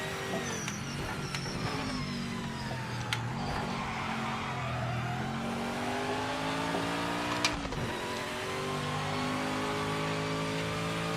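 A race car engine in a racing game drones loudly and continuously through a lap, its pitch rising and falling with gear changes and braking, with tire squeal and a sharp downshift near the end.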